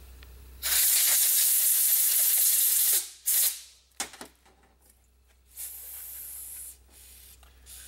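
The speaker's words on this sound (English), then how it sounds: "Some compressed air." Compressed air blasting through the engine oil holes on a 2015 Volkswagen Passat during cam timing repair, one long loud hissing burst, then short bursts and a softer final blow.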